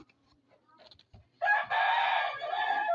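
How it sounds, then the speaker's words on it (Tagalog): A neighbour's rooster crows loudly and close in one long call after a few faint background sounds. "Ang ingay ng manok ng kapitbahay."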